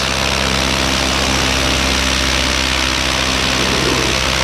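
A paramotor engine drones loud and steady in flight on a hot night, a constant close buzzing roar with wind rush that holds at one level and never lets up.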